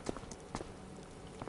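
Horse hooves clip-clopping in Farming Simulator 25, a few quiet, irregular hoof strikes on a farm, faint and close with no talk over them.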